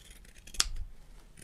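Zigzag pinking scissors cutting through felt for a handmade educational book, one sharp close snip standing out alone in a quiet room.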